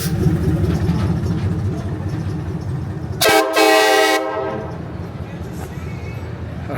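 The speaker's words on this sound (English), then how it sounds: "Wasn't the train horn awesome?" A train horn blasts loudly for about a second at a Hot August Nights car show, its bright sustained harmonic tone cutting through steady crowd noise and chatter.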